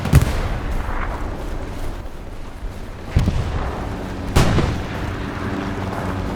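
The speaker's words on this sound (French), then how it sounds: "L'artillerie, calmez vos tirs, s'il vous plaît." Artillery in the video game Hell Let Loose: heavy booming gunfire rumbles through a dense battle din, with a few sharper blasts standing out amid continuous low thunder.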